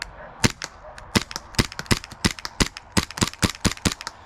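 An airsoft gun firing close and loud: sharp snapping shots, spaced single rounds at first, then tightening into a fast rattling stream.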